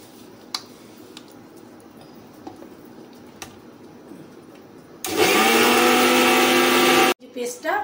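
An electric mixer grinder whirs loudly as it blends a spice paste with water, a sudden two-second burst of motor roar that stops and briefly restarts, following quieter kitchen clatter and talk.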